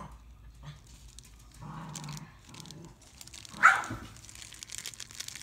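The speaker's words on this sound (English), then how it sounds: "Dog fight." Two dogs, one little and one big, playing and scuffling together indoors, with soft growls, panting and rustling and one sharp louder snap or yelp midway, fairly quiet and close.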